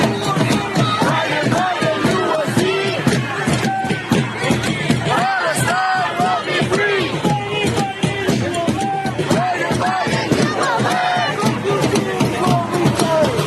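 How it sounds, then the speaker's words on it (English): A pro-Palestinian protest crowd outside a President Biden event chants and shouts in loud rhythmic unison, dense voices pulsing steadily with drumming beneath, close and continuous. "outside President Biden's event last night, utter and complete chaos from the pro-Palestinian crowd"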